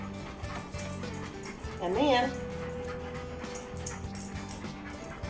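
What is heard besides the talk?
dog whimpering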